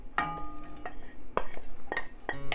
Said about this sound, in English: Now add the vegetables.